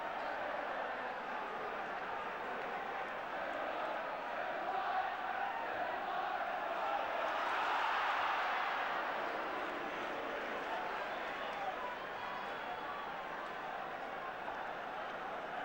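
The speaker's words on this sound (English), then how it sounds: "The crowd were getting restless up to that point also, but they're happy enough now" A football stadium crowd roars after a Manchester United goal against Ipswich, a broad distant wash of cheering and shouting that swells to a peak in the middle and then settles back.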